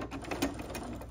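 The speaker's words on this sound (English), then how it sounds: "So I'm just gonna start sewing." A home sewing machine stitches a dart in fabric, a short burst of close, rapid rhythmic needle clatter with a steady motor hum underneath.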